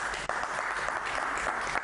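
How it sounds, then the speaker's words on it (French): A television studio audience claps for the technical crew at the close of a debate programme, a continuous, fairly soft patter of applause over a brief stretch. "On applaudit pour toute l'équipe technique"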